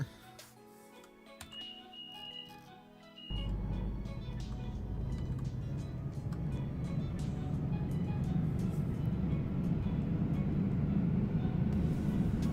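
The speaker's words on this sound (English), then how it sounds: "Why is this train so loud?" Loud train in the Roblox British Railway game: after a short quieter stretch, a dense mechanical rumble and roar rises sharply and stays loud to the end.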